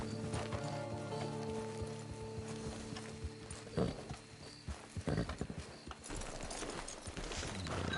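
Horse hooves clip-clopping in the Red Dead Redemption video game, a steady run of close hoofbeats over continuous background music, with a brief flurry of heavier hits midway.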